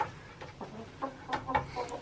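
Hens in a smallholding coop with laying boxes give soft, scattered clucks and murmurs, close but quiet, a few short calls spread over a couple of seconds.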